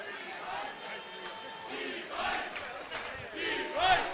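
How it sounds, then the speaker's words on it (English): A crowd at an axe throwing championship chants in rising and falling swells, moderately distant, with the loudest surge near the end. "The crowd chanting for Wes and his device."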